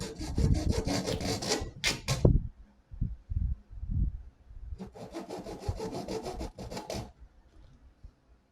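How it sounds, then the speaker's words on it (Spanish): A hacksaw blade cuts through a tube for a homemade indoor TV antenna. There are two bursts of rapid back-and-forth sawing strokes, loud and close, separated by a pause filled with a few scattered knocks and handling sounds. "Entonces para ello voy a utilizar una hoja de cegueta."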